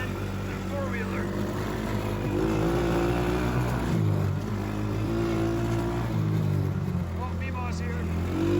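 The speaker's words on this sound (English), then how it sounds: "Having a hard time keeping up on this little 110 four-wheeler." A small 110cc four-wheeler ATV engine drones and revs steadily while riding around a backyard, chasing a youngster on a PW50 dirt bike, with a voice talking over the motor.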